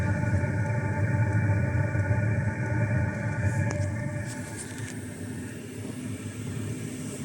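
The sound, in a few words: diesel heater running inside a van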